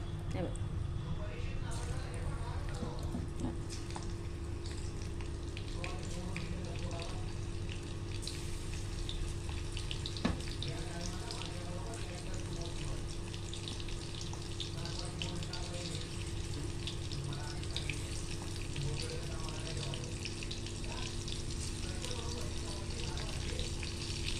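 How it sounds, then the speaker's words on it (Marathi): Kalav oysters sizzle in hot oil in a pan, a steady, fairly faint frying hiss that runs throughout while a person talks over it. "आता पुन्हा एकदा आपण टाकूया त्यात कालवं तळायला"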